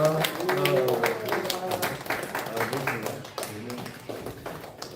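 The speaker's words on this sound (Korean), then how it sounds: "우리 박수 소리가 작은가요?" Congregation applause at a Sunday church service welcoming children forward, a dense patter of clapping mixed with talking voices that tapers off slightly toward the end.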